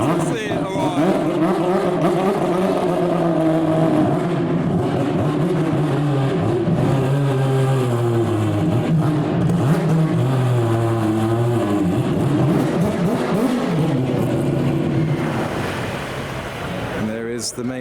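A custom Mazda MX5 arrives at the SEMA 2024 show, its engine droning and rising in pitch steadily close by for most of the stretch, then easing off near the end, with crowd noise around it.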